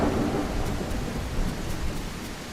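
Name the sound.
thunderstorm with rain in The Isle video game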